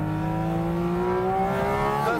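A Porsche sports car engine with ceramic brakes howling on a race track, heard loud and close from inside the cockpit, with the pitch climbing steadily as it revs up through a gear.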